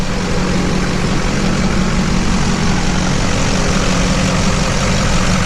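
A 2004 Chevy Silverado engine runs with a newly installed fan clutch, giving a loud, steady broadband roar and whir that holds unchanged throughout, close up and with no voices.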